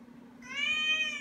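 One long, high cat meow rising out of a steady low hum, close and clear, sustained for most of a second.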